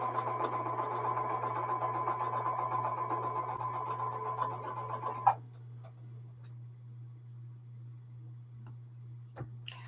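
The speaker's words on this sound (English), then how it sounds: "Okay, sewing a pinwheel." A sewing machine stitching a quilt pinwheel block runs with a rapid, even ticking hum for about five seconds, then stops, leaving a low steady electrical drone and a couple of faint clicks.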